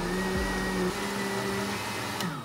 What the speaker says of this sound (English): I quickly blend these as well